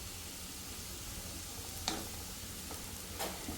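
Potatoes fry in a pan for aloo fry, a soft, faint steady sizzle with a couple of light clicks from stirring.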